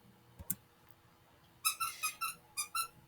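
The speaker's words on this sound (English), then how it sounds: "Also, my dog Zeus, who is playing with his squeaky toy right now, so I apologize for that." A dog chewing a squeaky toy indoors produces a rapid series of about seven high, shrill squeaks bunched in the last half, after a couple of quieter bumps near the start.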